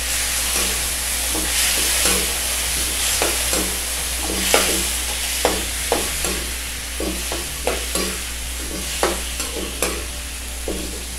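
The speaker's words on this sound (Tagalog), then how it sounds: "At haluin." Squid frying in a pan is stirred with steady, rhythmic scraping strokes over a constant close sizzle, with no talk.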